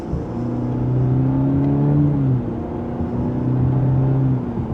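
A 2026 Cadillac CT4 V-Series in sport mode and second gear accelerates gently from inside the cabin, its engine note rising steadily in a sustained, moderately loud hum, easing off briefly before climbing again.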